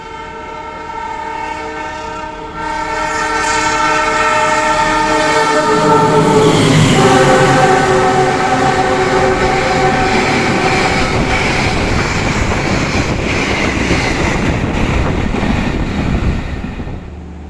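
A train horn sounds with sustained tones as the Sancaka express train roars through Masaran station in Indonesia at about 120 km/h, loud rumbling and rattling wheels building and holding close by.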